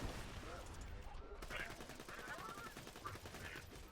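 Rapid, steady weapon fire from a video game rattles on without pause, quiet and somewhat muffled, with a few fainter sounds mixed in.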